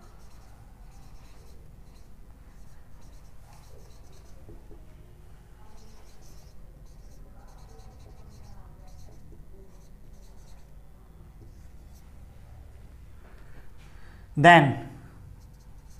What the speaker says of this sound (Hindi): सेम रीजन लिखना है हमें।